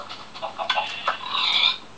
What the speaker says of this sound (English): I'm gonna shoot this pig.